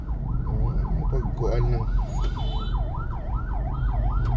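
An ambulance siren wails in steady, repeating rise-and-fall cycles on a rainy Cebu City street crowded for a parade just before Sinulog. It is loud and close, with someone talking over it.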